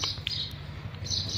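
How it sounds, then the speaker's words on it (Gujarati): Faint, high sparrow chirps come in a few quick bursts against a quiet low hum. "ચકલા કેવા ચણે"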